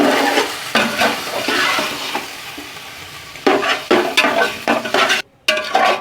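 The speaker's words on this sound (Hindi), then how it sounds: "ये हमारी जो चिकन है ये फ्राई हो रही है" Chicken frying in a pan with onions and spices for biryani, a steady close sizzle broken by scraping stirs and a few sharp clatters of a utensil against the pan, with one brief dropout near the end.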